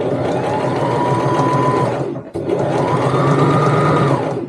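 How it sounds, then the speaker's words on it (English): A sewing machine straight-stitches around a fabric rectangle for a tote bag. It gives a close, steady mechanical whir in two runs, split by a brief pause near the middle. "So we back stitch to get started, and then just follow right round the rectangle."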